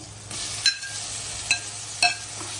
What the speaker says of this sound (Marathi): आता कांदा याच्यामध्ये ना फ्राय करून घ्यायचा